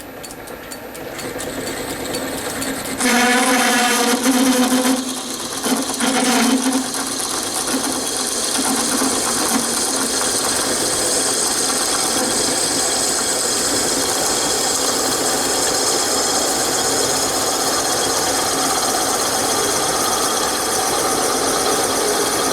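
Metal drilling on a Lorch lathe for a metal spinning attachment: a steady, loud machine whine runs continuously, with a few heavier grinding bursts early on as the bit bites.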